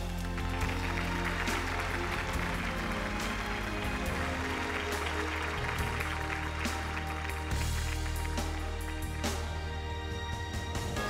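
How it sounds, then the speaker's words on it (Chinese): A studio audience at a Chinese talk show applauds continuously, a dense clapping wash that holds steady throughout with no speech. "我们首先掌声有请"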